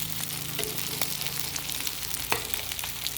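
Anchovy omelette (tortang dilis) frying in a pan, a steady close sizzle with scattered small pops and crackles, no talking.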